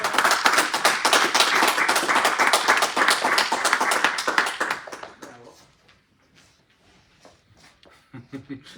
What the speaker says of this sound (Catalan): També m'aplaudeixen.